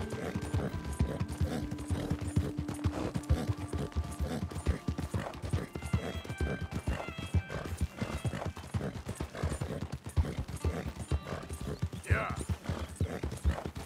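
In Red Dead Redemption 2, a horse's hooves clip-clop steadily and close, a quick rhythmic gallop of hoof strikes running throughout, with a short whinny-like cry near the end and someone talking faintly over parts of it.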